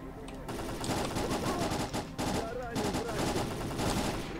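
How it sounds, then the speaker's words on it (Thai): Sustained automatic gunfire from soldiers fighting in S.T.A.L.K.E.R.: Call of Pripyat rattles almost nonstop at moderate loudness, with only brief gaps between bursts. "มันยังยิงกันไม่เสร็จอีกเนาะ"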